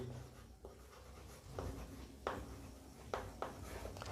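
Pen or pencil writing on paper during a maths lesson on statistics, working out class intervals and frequencies; steady faint scratching strokes with a few sharper taps, close up and without speech.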